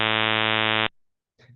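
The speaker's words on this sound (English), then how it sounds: "But that A note will be buzzy because it's not just a sine wave." Synthesized 110 Hz A note built as a pulse train, a harsh, buzzy steady tone rich in harmonics, held for under a second and then cut off cleanly, followed by a brief faint voice.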